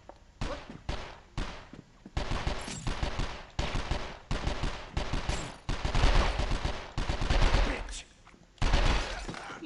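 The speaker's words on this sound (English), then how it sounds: "Shooting at Kim." Gunfire in the video game 24: The Game: rapid repeated shots in steady bursts, loud and close, running almost continuously with brief gaps, and a voice talking underneath.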